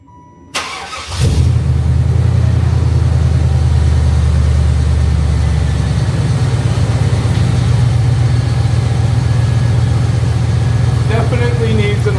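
A lifted Buick Roadmaster wagon's engine cranks briefly and catches, then settles into a loud, steady, deep idle that rumbles on close by for the rest of the time.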